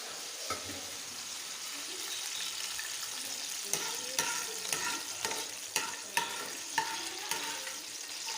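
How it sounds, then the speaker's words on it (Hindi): Almonds frying in a pan for Kabuli pulao give a steady close sizzle, with repeated scraping strokes of a spoon stirring them across the pan throughout. "इसको थोड़ी देर फ्राई करेंगे, इससे इसका टेस्ट जो है इनहेंस हो जाता है। और दूसरी तरफ मैं इसको भी हिला रही हूँ।"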